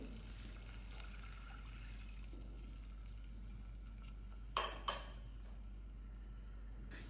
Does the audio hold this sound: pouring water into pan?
yes